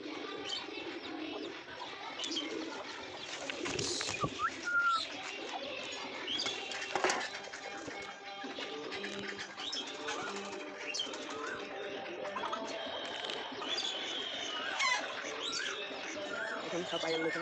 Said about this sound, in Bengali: দেখুন পায়রাগুলো সব খাবার খাচ্ছে।